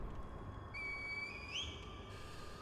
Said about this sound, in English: Call the Divine Air with the reed whistle?